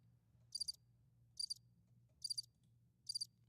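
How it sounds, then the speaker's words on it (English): Crickets chirp in four evenly spaced bursts, each a quick trill of high pulses over a faint low hum, fairly quiet and with no voices. "Crickets."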